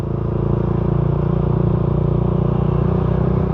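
A motorcycle rides over railway tracks with a loud, close engine drone and a rapid rattling pulse running throughout.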